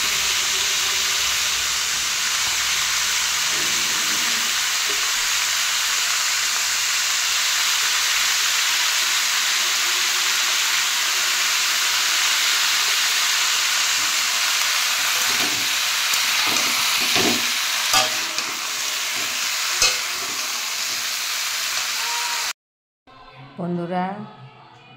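Potatoes fry loudly in a pan for a jackfruit vegetable dish, a dense steady sizzle and hiss with occasional stirring scrapes later on, close; the frying cuts off near the end and a voice speaks briefly.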